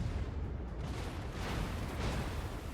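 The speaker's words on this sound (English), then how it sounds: "Enemy Smolensk has opened fire again, once again." Heavy naval gunfire from the Smolensk cruiser during a World of Warships battle, a dense continuous rumble of booming shots with no clear gaps between them, loud and close.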